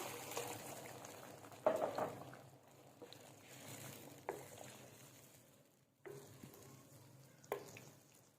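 Water poured into a pot of fried chickpeas with separated oil hisses and bubbles steadily at close range, with a few sharper clunks and splashes and a brief quiet dip partway through.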